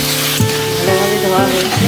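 Chopped taro hits a pan of well-fried spices and sizzles loudly and steadily, with soft rhythmic scraping or stirring pulses about every half second beneath the continuous frying hiss.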